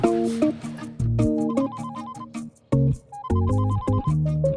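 A phone rings with a melodic electronic ringtone, a bright repeating tune of short stepped notes played twice with a brief gap, loud and close with no talking over it.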